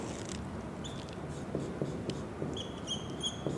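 Quiet scratching of pen on paper while an answer is written on a fraction worksheet, soft strokes over a steady low background hiss.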